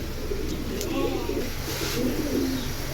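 Silver pigeons, a pair of aluminium silvers among them, coo in low, burbling phrases that rise twice over a constant loud hiss of background noise, fairly close.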